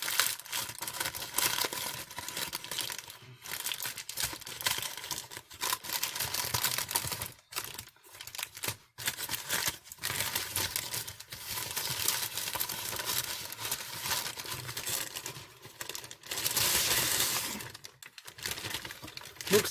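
A mail package is opened by hand, with continuous close crinkling and tearing of paper and packaging that come in dense bursts and brief pauses.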